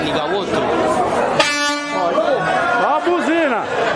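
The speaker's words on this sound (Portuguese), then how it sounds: "Olha a buzina!" A loud vehicle horn blares near the middle at a custom car show, a sustained buzzing tone lasting about half a second amid ongoing conversation and crowd chatter.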